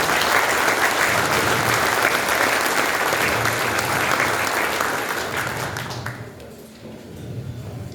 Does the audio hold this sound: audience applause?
yes